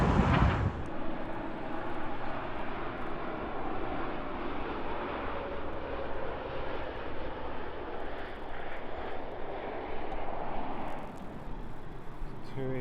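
An aircraft arriving at London Heathrow from Tirana, Albania makes a steady, moderately loud jet engine rumble and roar sustained across the clip, with voices speaking over it.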